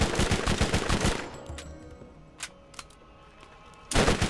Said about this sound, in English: So that I can shoot it in the face.